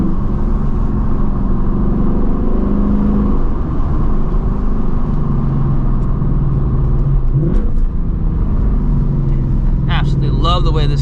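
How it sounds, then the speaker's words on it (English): A 2024 Ford Mustang GT S650 cruises with its windows down, giving a loud, steady engine rumble and road drone throughout, with a brief voice and some tonal whine near the end. "Absolutely love the way this car sounds"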